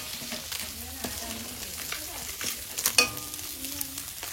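Fish fry in hot oil in a pan with a continuous close sizzle, punctuated by scraping and light clanks of a utensil stirring and turning the pieces.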